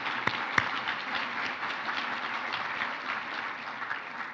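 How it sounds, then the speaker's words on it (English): Audience applause at a sustainability summit session, a steady spread of many hands clapping throughout, with a couple of sharper claps near the start. "Let's give him a round of applause for his excellent work."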